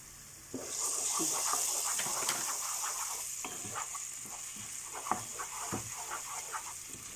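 Garlic stirred and frying with softened onions for a papaya and magur fish curry, a steady close sizzle with repeated scraping strokes of a spoon against the pan throughout.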